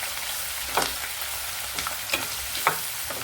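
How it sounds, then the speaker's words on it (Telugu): Green chilies and onion pieces fry in a pan over low heat, a continuous sizzle broken by a few quick stirring scrapes and clinks, fairly close and with no speech. "ఇప్పుడు పచ్చిమిరపకాయలు, ఉల్లిపాయ ముక్కలు సిమ్లో పెట్టుకుని వేగించుకోవాలండి"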